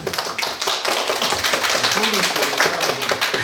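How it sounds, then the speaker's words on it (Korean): Audience clapping at an author book talk in a Gwanghwamun bookshop, a dense, steady patter filling the room with a voice briefly audible over it. "박수 한번 주시죠."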